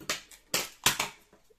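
Adhesive tape is cut while sealing a pouch for clear rubber stamps, producing a few sharp crackly snips and rips in quick succession, close by and fading at the end, with no one talking.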